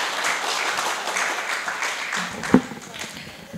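Applause for an ambassador at a public debate on the death penalty in Tanzania: a steady, moderately distant patter of many hands, with a sharp knock near the end as it tapers off.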